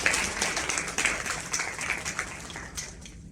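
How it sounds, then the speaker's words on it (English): At a women-in-business breakfast, the audience claps for themselves: a moderate, somewhat distant patter of hands from a room of people, tapering off toward the end. "May you clap hands for yourself."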